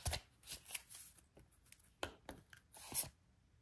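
Tarot cards being shuffled by hand in a few quick riffling bursts with short pauses between them, close and crisp, with no talking.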